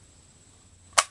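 A .450 Bushmaster rifle firing a 350-grain cast bullet test load gives one sharp, loud crack near the end of a quiet stretch, decaying quickly.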